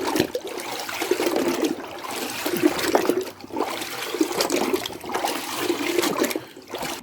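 Motorcycle engine parts from a blown-up Suzuki RM250 two-stroke dirt bike are swished back and forth in a container of water, giving a steady sloshing, splashing wash that rises and falls in repeated strokes, close and fairly loud with no talking.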